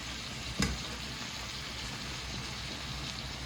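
Potatoes added to tomatoes frying in a pan for a vegetable dish, a brief clatter as they drop in, then a steady close sizzle that fills the rest with no talk.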